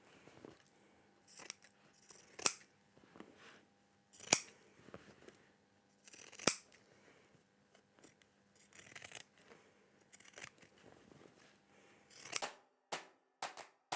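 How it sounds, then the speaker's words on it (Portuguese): Zigzag pinking shears trim excess fabric from a sewn bag lining, with sharp scattered snips and crunchy cuts spaced irregularly, close and fairly quiet, with no talking. "agora vamos só retirar os excessos com a tesoura de zigue-zague"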